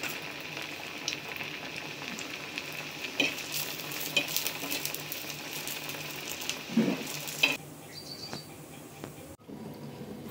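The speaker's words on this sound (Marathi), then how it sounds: "आपलं तेल तापलेलं आहे। आता आपण वडी तळू।" Kothimbir vadi, coriander fritters, frying in hot oil, a continuous soft sizzle with bubbling crackles and a few clinks and scrapes, fading quieter near the end, with no talk.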